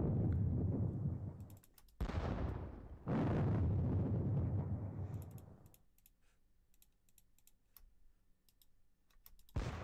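Two heavy booming blasts of point-blank cannon fire in a Battle of Vienna video game roar out one after another, then fade into a quieter rumble with light clicking.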